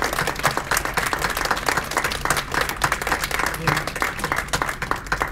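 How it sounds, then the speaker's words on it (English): Steady applause from an audience at a school board meeting, dense and continuous clapping throughout without a break. "I just want to give a special round of applause to our 3 students"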